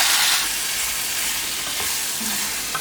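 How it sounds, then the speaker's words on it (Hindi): Marinated chicken fries in a small amount of oil, giving a continuous close, bright sizzle and spatter that holds steady for a few seconds with no voices. "उसके लिए चिकन को फ्राई कर रहे हैं। थोड़ा सा तेल डाला जाता है भाई इसके अंदर"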